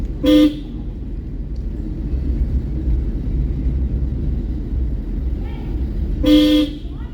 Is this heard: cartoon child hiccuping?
no